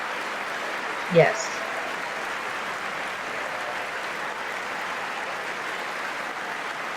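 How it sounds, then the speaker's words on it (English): Sustained applause from the audience in the chamber at the 2019 State of the Union, a steady, distant wash of clapping that holds evenly throughout, with one brief spoken word near the start. "they're clapping for women"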